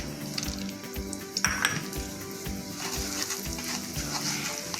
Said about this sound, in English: To this I am going to add suji or rava and I am going to roast it.